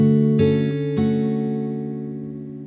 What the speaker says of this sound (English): This first picking sequence on this chord sounds like this.